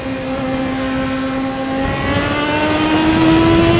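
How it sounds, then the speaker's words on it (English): A motorcycle with a slipping clutch, a budget classic Japanese sports bike, revs loud and close in a sustained drone whose pitch slowly climbs without the bike pulling away, on its first road test. "Oh, I've definitely got a slipping clutch."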